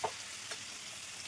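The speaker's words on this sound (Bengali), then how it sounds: "পনির বেশি ভাজতে লাগে না, হালকা একটু নাড়াচাড়া করে নেবো।" Paneer sizzling gently in a pan with oil, a steady faint frying hiss with a couple of light stirring scrapes.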